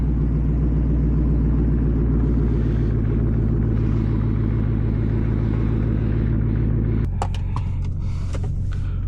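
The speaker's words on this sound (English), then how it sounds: "Not really a cold start, I was just in it, so a warm start" A Dodge Scat Pack V8 idles after a warm start, a deep, loud, steady rumble that continues close by. Near the end it shifts, with some sharp clicks and knocks over the idle.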